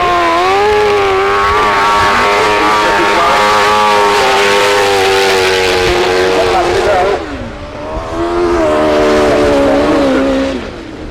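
Racing cars speed past on the Danebury rally stage, loud engines roaring at high revs with rising and falling pitch as they pass close, one dropping away before another surges in.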